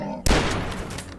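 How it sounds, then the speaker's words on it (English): Gunfire in the first-person shooter Dusk, a sudden loud blast that cuts in after a brief quiet moment and rings out with a decaying tail, close and alone. "Who was shooting at me?"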